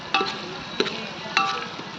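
Gourd pieces frying in tempering oil, giving a soft steady sizzle with three brief scraping stir sounds spaced evenly apart.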